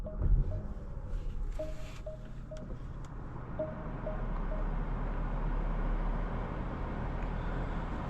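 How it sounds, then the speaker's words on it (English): Inside a 2024 Porsche Panamera with a 2.9-liter twin-turbo V6 on the move, a low, steady engine and road rumble fills the cabin, with soft wind noise and a few faint tonal chimes early on. "today we're going for a drive in this 2024 Porsche Panamera"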